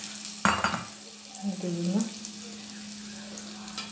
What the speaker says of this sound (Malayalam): ഇതാണ് ഇതിനെ കടു വറുക്കുന്ന സംഭവം